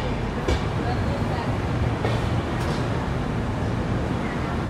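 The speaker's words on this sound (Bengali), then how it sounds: "ট্রেন কিন্তু ছেড়ে দিল বর্ধমান জংশন।" A train pulls away from Bardhaman junction, heard from inside as a steady loud rumble with occasional clunks and rattles, broadband noise filling the carriage throughout.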